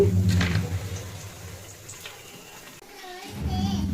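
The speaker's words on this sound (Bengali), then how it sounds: "এখন একটু ধুয়ে রোদে দিব কয়েকবার জল পাল্টে পাল্টে আমি এটা ধুয়ে নিব" Water splashes and sloshes in a few bursts as something is washed and the water is changed. The sound is moderately close and is interrupted by a quieter pause, with voices, including a child's, heard around it.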